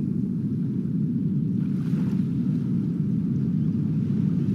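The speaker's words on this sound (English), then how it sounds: "All right. Let's start the engine." A boat engine in the Ultimate Fishing Simulator 2 video game, during saltwater trolling, hums as a steady, low, loud drone that holds evenly throughout with no voices over it.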